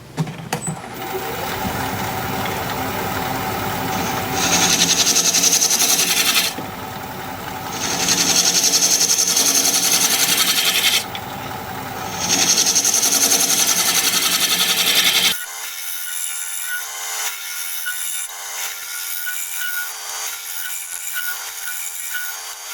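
A freshly burred scraper pushed hard across dense Kamani wood on a lathe: a steady rough scraping hiss that swells in three long strokes over a constant machine hum, then settles into a fainter steady rasp.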